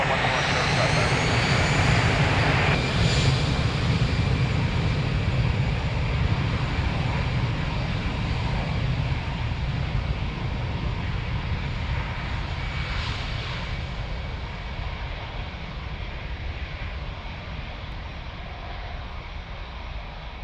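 An aircraft roars down runway 02 at Lisbon Airport on a wet morning, a loud steady engine rumble that slowly fades over about twenty seconds as it climbs away, with faint radio chatter in the background.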